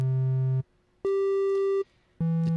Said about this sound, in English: The triangle wave sort of sounds like a mix between the sine and the sawtooth wave